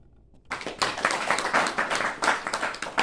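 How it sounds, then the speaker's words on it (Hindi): A class of students breaks into applause after a teacher's question is answered correctly, dense clapping starting abruptly after a half-second pause and continuing steadily and close by. "तालियां।"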